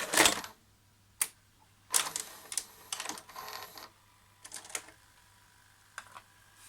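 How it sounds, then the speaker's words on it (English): VHS tape going into a Daewoo DV-K260 VCR, a series of close mechanical clicks, clunks and short whirring motor bursts spaced over several seconds in a quiet room. "Now let me put this tape in."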